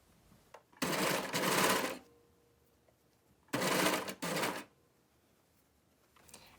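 Sewing machine or serger stitching a t-shirt cuff in two bursts, each about a second long with a brief pause inside the second, running close and loud between quiet gaps.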